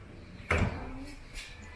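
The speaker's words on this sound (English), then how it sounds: "the door of the toilet is sliding" Sliding toilet door in a Philippine house, one short rolling slide and soft knock, then a faint second bump, heard close in a quiet room.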